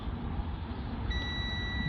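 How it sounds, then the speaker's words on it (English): A digital multimeter on continuity mode beeps while testing a fuse in a Peugeot Expert van; a steady, clear electronic tone starts about halfway through and holds over a faint background hum. "See, again, we're getting a beep from that one."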